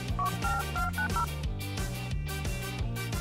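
Touch-tone keypad beeps as a phone dials 911, a quick run of paired dual-tone presses near the start, heard over a steady musical background with a driving low beat and no talk.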